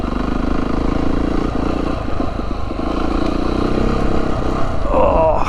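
A Beta 390RR dirt bike rides a wintery, icy trail over dirt and stone, its engine droning loud and close throughout with rattling clatter and a slight rise in revs near the end.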